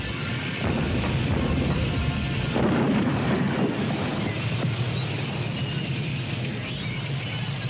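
Artillery fire during a tank attack, heard as a heavy, rumbling barrage of low booms rolling continuously at a distance, with a muffled, wind-like roar underneath and no speech.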